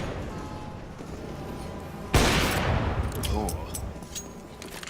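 Gunshot in Counter-Strike fired through a wall during an ESL Challenger Katowice match, a single loud sharp crack followed by a lingering noisy tail, over a caster talking throughout.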